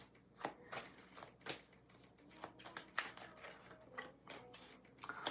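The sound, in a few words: shuffling tarot cards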